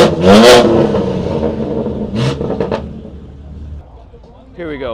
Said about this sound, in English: So again, this is the 4-inch single mid.